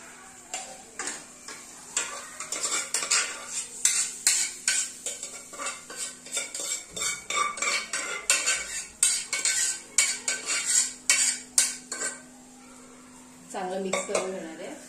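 A spiced vegetable mixture with Kashmiri red chilli is stirred in a pan, with a spoon scraping and clinking against the metal in uneven bursts over a faint hiss, briefly pausing before resuming near the end.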